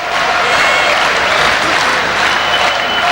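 Boxing crowd at the Glenn Catley versus Markus Beyer fight cheers and applauds steadily for Beyer, a dense, continuous roar of clapping and voices filling the arena.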